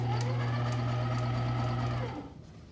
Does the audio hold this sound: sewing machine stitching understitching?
yes